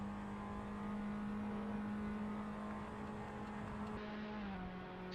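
Race car engine held on the rev limiter in Assetto Corsa at Istanbul Park, a steady loud buzzing drone that stays flat for several seconds and drops slightly in pitch near the end, with no talk.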